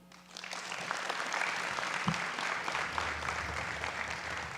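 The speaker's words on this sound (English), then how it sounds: "Let's give one more big round of applause for these teachers and paraprofessionals." Audience applause for honored teachers and paraprofessionals at a county school board meeting, a sustained, dense round of clapping from a large crowd that swells quickly and holds steady throughout.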